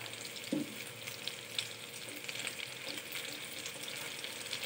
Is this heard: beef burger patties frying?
yes